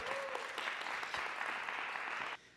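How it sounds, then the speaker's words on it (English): A burst of steady applause from a sizeable church congregation at a baptism and confirmation service fills the space, then stops abruptly near the end. "Please give him a big applause."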